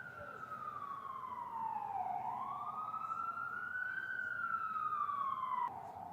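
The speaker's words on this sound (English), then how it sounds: "Sorry about the sirens." A wailing siren sweeps down and back up in pitch over a steady rumble of traffic, loud and continuous throughout.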